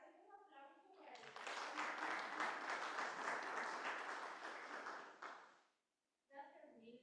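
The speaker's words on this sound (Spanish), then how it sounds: "Un aplauso para el..." Applause from a seminar audience at a water conference session swells after a short stretch of talk, holds steady for about four seconds, then stops abruptly, with speech resuming afterward.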